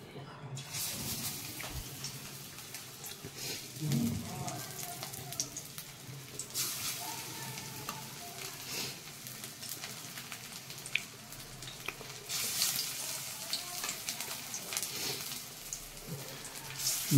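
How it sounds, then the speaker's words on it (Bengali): A soft, steady crackling sizzle of banana-flower fritters deep frying in hot oil, fairly quiet throughout with brief stretches where it swells slightly. "বড়াগুলো ভেজে নিই তারপর"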